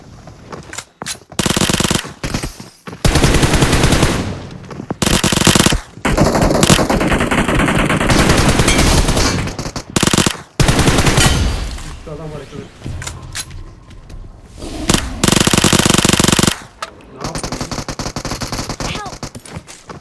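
Gunfire in the mobile battle royale game PUBG Mobile rings out as loud, dense automatic bursts and rapid fusillades. Brief pauses fall between long stretches of shooting over nearly the whole span, with a voice speaking at moments.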